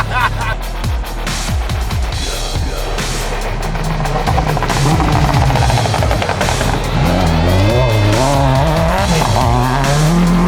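A Robin Clarkson Warrior rally car with a 3-litre Jaguar V6 of about 240 horsepower, at a hill rally; loud engine revving with rising and falling pitch sweeps, close and continuous.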